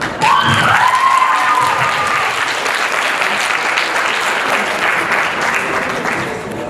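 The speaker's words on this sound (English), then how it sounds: "One more time, applause for my sister." A graduation-ceremony crowd breaks into sustained, dense applause with scattered cheering, loud and close, holding steady for several seconds; a brief tonal squeal rises near the start.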